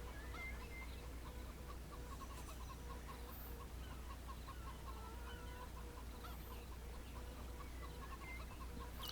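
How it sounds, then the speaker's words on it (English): Ducks on a virtual pond in Second Life give faint, repeated quacking calls over a steady low ambient hum, with no speech. "this one does in fact have what looks like to be ducks inside of it"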